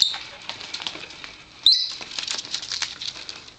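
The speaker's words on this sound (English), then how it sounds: "She is chewing on that mug." A pet bird gnaws and scrapes at a mug-shaped toy in quick, faint, irregular ticks and rustles, broken once by a brief sharp chirp partway through.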